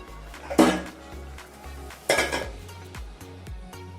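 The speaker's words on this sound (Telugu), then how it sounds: "మూత పెడదాం." A metal lid set down on a pot of meal maker biryani, with two clanking contacts about a second and a half apart, close by and fairly loud, over a low kitchen hum.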